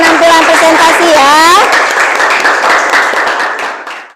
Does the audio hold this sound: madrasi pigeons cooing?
no